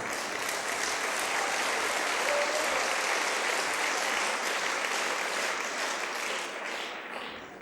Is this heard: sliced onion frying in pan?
no